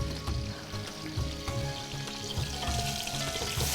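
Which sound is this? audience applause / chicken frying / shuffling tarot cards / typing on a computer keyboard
chicken frying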